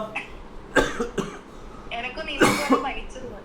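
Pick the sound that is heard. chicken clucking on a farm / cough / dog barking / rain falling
cough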